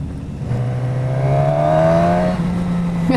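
A Suzuki Katana motorcycle pulls hard under full throttle, its engine note climbing steadily in pitch through a gear, loud and close with wind noise.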